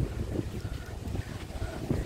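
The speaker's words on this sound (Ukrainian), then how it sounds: "Вітер сумасшедший." Strong sea wind on a seaside promenade in Chornomorsk roars and gusts against the microphone in uneven low buffeting surges, with no voices.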